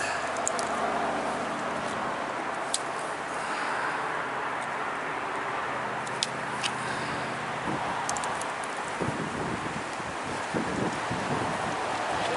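Steady outdoor wind rushes and buffets against the microphone throughout, with faint rustling and a few brief knocks toward the end.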